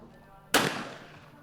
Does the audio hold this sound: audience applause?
no